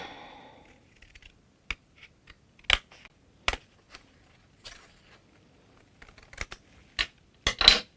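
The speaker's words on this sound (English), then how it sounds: "I'm just going to cut this with my scissors." Scissors snip through papercrafting card in a quiet room, a series of short sharp isolated clicks spaced irregularly over several seconds, with no talk.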